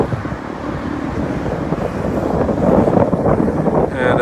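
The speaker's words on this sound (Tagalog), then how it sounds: "it's very windy today. So, apologize in advance for the wind." Strong wind buffets the microphone outdoors at a Tagaytay viewpoint overlooking Taal Volcano, a loud continuous rumble that gusts harder in the second half.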